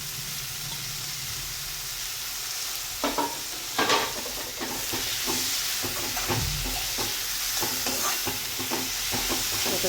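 Fenugreek leaves sautéing in a pan for pithale, a steady frying sizzle with a few sharp stirring clatters of a spoon against the pan partway through.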